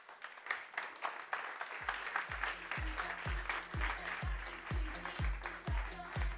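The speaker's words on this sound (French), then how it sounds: "vous pouvez l'applaudir" Audience applause at a professional conference on cyber threats, a soft continuous patter of many hands greeting a guest, with a steady low thumping beat pulsing underneath; distant and moderately quiet.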